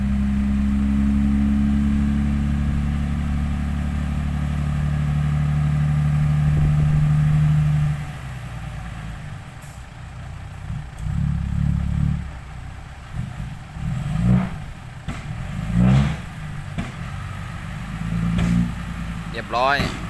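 A truck engine idles heavily and rumbles loudly for several seconds, then drops off as revving bursts rise and fall alongside voices talking at an outdoor gathering.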